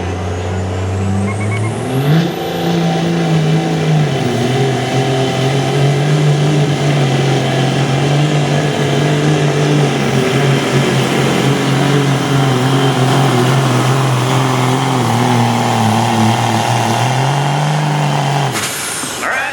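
A heavy pulling truck engine roars loudly and continuously at a truck and tractor pull, its pitch climbing as it revs under strain, with a hiss of air near the end.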